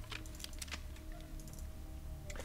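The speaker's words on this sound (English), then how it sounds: "Now I'm using keyboard shortcuts" Computer keyboard keys are pressed in short, quick clusters of clicks while Wasteland 2 is played, fairly close and clear against a quiet background hum.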